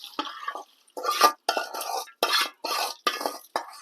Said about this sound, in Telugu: ఇదిగో పోపులు పోసేస్తున్నాను